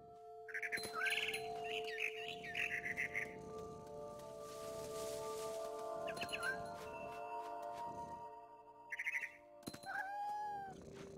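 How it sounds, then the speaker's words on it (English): A barn swallow chirps in the video game What Remains of Edith Finch, short bright calls in bursts over sustained musical tones, with a cat's meow-like cries mixed in. "Then I heard chirping outside my window. It was a barn swallow going back to her nest."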